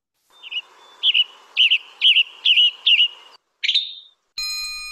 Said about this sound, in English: And it has that tribidit that you always know that's a tanager.